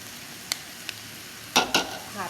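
Rice being stirred into sticky rice dumpling filling in a pot, a few soft scraping and clattering strokes close by, the last two louder, in a quiet kitchen.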